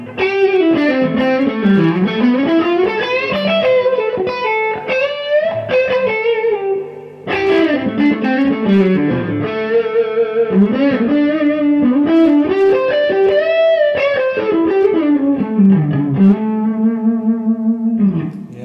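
A loud, distorted electric guitar plays a flowing melodic solo through a Seymour Duncan Silver Lake reverb pedal, its notes bending and sustaining under a wash of reverb and effects.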